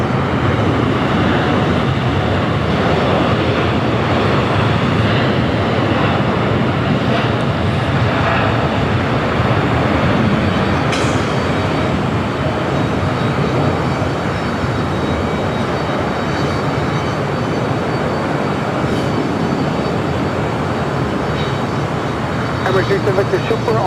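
Boeing 787 Dreamliner rolling down runway 25 right at Los Angeles airport, a loud, steady engine roar held throughout, with talk running under it.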